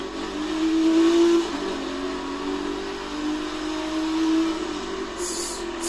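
An Aston Martin Vanquish engine in the racing game The Crew 2 holds a steady, moderately loud drone that swells twice. No one speaks over it.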